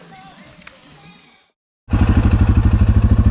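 A farm vehicle's engine starts up loud and close after a moment of quiet, chugging in a steady pulsing rhythm as it drives out to feed goats during a drought.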